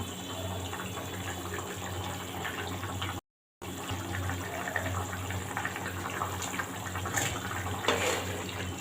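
Fish pieces go one by one into boiling broth seasoned with turmeric and salt, giving a steady, moderate bubbling and watery wash that runs almost without pause apart from a brief silent gap.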